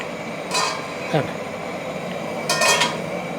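Metal lid clinks and a spoon scrapes against a pot of mango curry cooked to taste like fish curry, with two bright clatters about two seconds apart and a short stirring scrape between them, moderately loud over a quiet kitchen.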